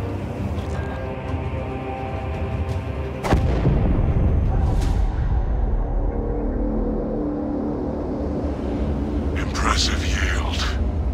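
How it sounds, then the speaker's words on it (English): A nuclear payload detonates in the video game Space Marine 2, a sudden heavy boom followed by a long rolling roar and crackling debris, loud and alone without talk. "Detonation in 5. Brace for shockwave."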